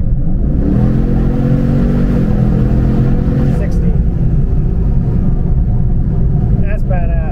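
A V8 car accelerates from 45 to 60 mph, its engine note climbing steadily in pitch for a few seconds before settling into a loud, continuous roar of engine and road noise.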